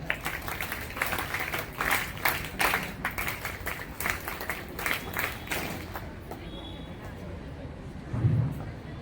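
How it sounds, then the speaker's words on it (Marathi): Audience clapping at a school felicitation ceremony, a moderate spread of many hands clapping that gradually thins out and fades, with voices briefly heard near the end. "सगळ्यांनी टाळ्या।"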